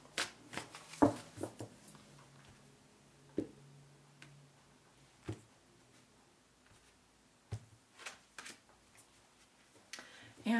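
Tarot cards are handled, shuffled and pulled in a quiet room, with soft scattered taps, flicks and slides of the cards.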